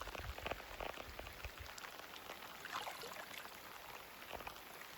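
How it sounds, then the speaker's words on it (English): Rain pours down outdoors on a lake during a musky fishing outing, a constant faint patter and hiss of drops with no voices. "It's raining. It's pouring out."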